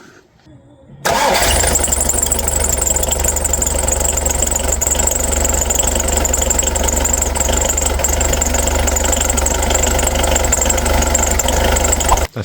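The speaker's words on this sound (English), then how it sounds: "Then we'll start the engine" A VW T4 van engine cranks and catches after about a second, then settles into a loud, steady idle with a low rumble and rattle that runs to the end.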